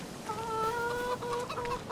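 Farm chickens cluck in Farming Simulator 25 on PS5, a short run of clear, close bird calls with a few drawn-out tonal clucks over quiet game ambience.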